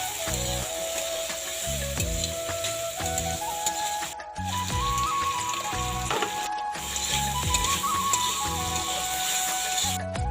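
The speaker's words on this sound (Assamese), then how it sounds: "প্ৰথমে আলুখিনি ভাজি ল'ম।" Steady frying sizzle of potatoes with turmeric and salt fills the pan throughout, with a repeating mechanical hum and faint clanks of stirring layered underneath; no voices.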